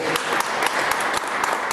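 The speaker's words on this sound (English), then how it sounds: "Let's give him another hand of applause" An audience applauds a minister speaker at a Saviour's Day 2012 gathering, with dense, loud clapping filling the whole moment and crowd noise mixed in.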